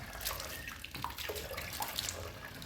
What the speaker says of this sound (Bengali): ব্রাশটা করে মুখটা ধুয়ে নিই